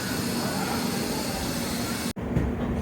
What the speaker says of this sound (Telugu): ఇప్పుడే కదిలింది ట్రైన్ కూడా